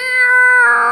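A single drawn-out cat meow from a video game, loud and close, rising slightly and then trailing off, heard alone within about a second.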